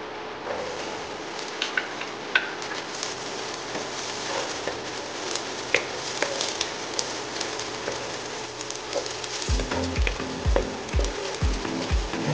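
Garlic sautés in a hot pan for chicken sisig, giving a steady, dense crackling sizzle with scattered pops, and a few louder clatters and knocks near the end.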